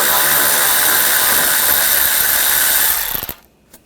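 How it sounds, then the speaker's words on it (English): A ratchet with a 10mm socket turns out a screw on a 2014-2020 Nissan Rogue radiator fan assembly, giving a loud, steady, close mechanical whir that runs continuously for about three seconds and then stops abruptly. "Take this screw out, use a 10mm socket."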